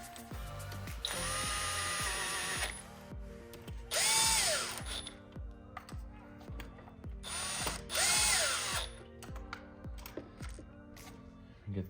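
Power tool tightening thermostat housing bolts on a BMW V10 engine in an M5/M6, several bursts of drill-like whirring with ratcheting clicks, close and fairly loud, alone without talk.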